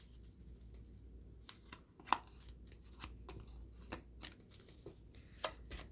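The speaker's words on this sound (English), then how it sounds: "let's mix these cards up a little bit" A deck of tarot cards being shuffled by hand, a quiet series of soft riffling flicks and light slaps in an uneven rhythm, close but faint, with no speech.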